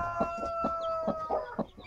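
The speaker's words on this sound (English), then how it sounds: "How's your chick this morning?" Chicken clucking repeatedly at a steady pace, a mother hen with hatching eggs, close by and fairly clear over a faint steady background hum.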